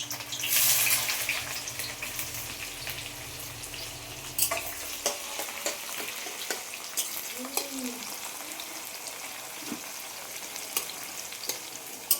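Onions frying in mustard oil in a wok crackle loudly at first, then fade into a quieter sizzle punctuated by stirring clinks and scrapes, close by, with no one speaking.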